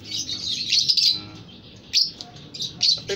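Caged songbirds, one of six kept by a bird enthusiast, chirp in bright bursts of tweets and short calls, close and lively, with quieter gaps between the phrases.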